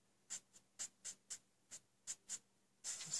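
Metal dip pen nib scratching lines across card while drawing flower petals and leaf veins on a birthday card, a series of short, crisp strokes in an uneven rhythm, close and quiet, ending in a longer continuous scrape.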